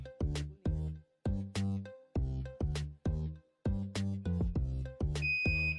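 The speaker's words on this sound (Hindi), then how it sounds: "ये हमारा बजर बोल गया है बेसिकली" The timer buzzer on a double deck gas bakery oven, a string of loud, harsh buzzing pulses in a quick, steady on-off rhythm, sounding alone.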